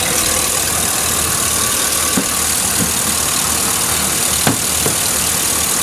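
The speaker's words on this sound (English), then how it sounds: "See, it's starting to rattle, starting to shake." A car engine idles roughly with a misfiring cylinder, running as a steady, loud drone throughout with a few faint knocks and rattles breaking through.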